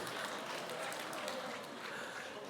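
Church congregation at a university worship service clapping together, a dense, steady wash of many hands applauding that holds evenly throughout and fades slightly toward the end, with some voices mixed in.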